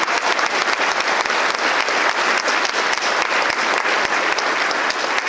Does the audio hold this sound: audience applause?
yes